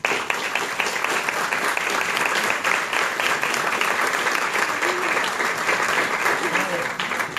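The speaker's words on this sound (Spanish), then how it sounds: "Un fuerte aplauso." Dense audience applause at the FICIC 2018 closing and awards ceremony: a loud, continuous roar of many hands clapping that holds steady throughout, with crowd noise mixed in.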